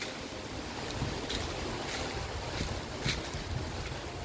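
Strong typhoon wind roars steadily, shaking and thrashing bamboo in a broad rushing wash with gusting swells, loud and continuous with no talk.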